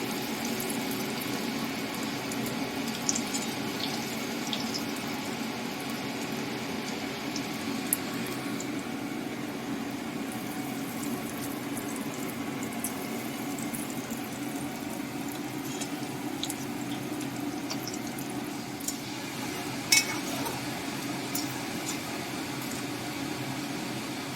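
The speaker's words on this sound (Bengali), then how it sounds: "একদম আস্তে আস্তে ভাজতে হবে।" Vegetable chops fry slowly in hot oil over a lowered gas flame, giving a steady, soft, continuous bubbling sizzle throughout with a few faint clicks, no voices.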